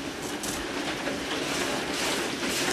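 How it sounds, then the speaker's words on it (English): Dense, steady rain pours down, a constant broadband hiss with occasional louder splashes, fairly close and continuous, with no one speaking. "it's pouring down rain outside"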